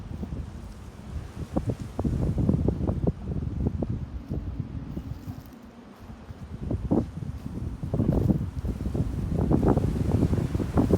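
Steady outdoor wind buffeting a microphone beside a 2002 Chevy Silverado V6 pickup, a continuous low rumble with gusty surges that swell and fade throughout, no voices.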